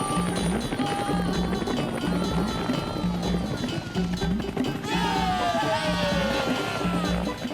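A loud, continuous helicopter rotor chop throbs steadily, with a rising whine and background noise layered over it.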